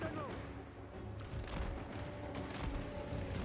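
Gunfire volleys crackle across a Total War Warhammer 3 battlefield: distant, layered rifle and cannon bursts rise and fall over a steady rumble, with sharper cracks standing out every second or so.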